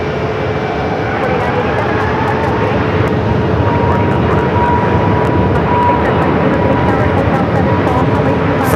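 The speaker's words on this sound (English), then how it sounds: "Frontier A320 Neo now rolling down to 25 right." A Frontier Airbus A320neo rolling down the runway at Phoenix Sky Harbor, its engines giving a loud, even roar with a faint whine and light ticking clicks over it.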